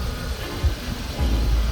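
An $800 used auction car sits with its engine running, a steady low idle rumble up close that swells a little louder toward the end.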